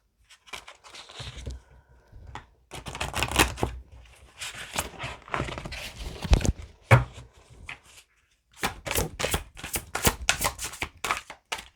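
A deck of cards is shuffled for a card reading, with repeated bursts of riffling and sliding cards close by, separated by short pauses and light taps.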